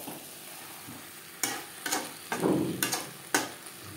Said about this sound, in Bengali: মাছের সাথে আলু বেশ ভালো করে মিক্স করে দেব।